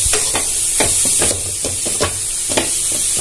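Carrot, greens and egg stir-fry sautéing in a pan, a steady close sizzle with repeated scraping stirs of a spatula every half second or so, no talk.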